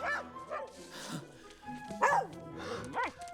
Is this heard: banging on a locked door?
no